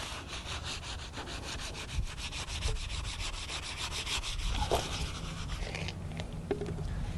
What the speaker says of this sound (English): Give it a good scrub, always making sure you go across the grain and not with it.